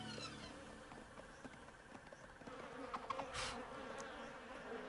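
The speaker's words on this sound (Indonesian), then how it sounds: "Aku sudah muak dengan lalat mengerikan ini." Flies buzz in an animated cartoon, a persistent close insect whine that wavers and swells in loudness over a quiet background, with no speech.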